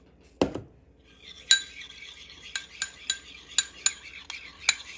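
Spoon or whisk clinking against a bowl while stirring warm milk into eggs to temper them for coconut cream pie filling: a sharp opening tap, then a run of crisp metallic clinks in an uneven rhythm, close and clear, with no talking.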